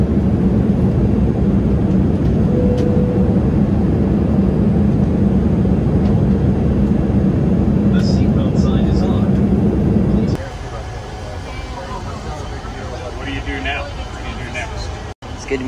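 Loud steady engine roar and airflow inside the main cabin of an American Airlines Boeing 787-8 airliner on landing approach, dropping in level partway through to a quieter hum with faint cabin sounds.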